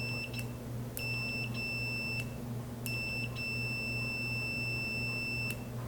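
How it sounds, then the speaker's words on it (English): A continuity tester emits short electronic beeps as a steering wheel button is pressed, a few separate high tones over a steady low hum, with no talking. "when I press the button, I expect to hear tone, just like here when I touch these two together"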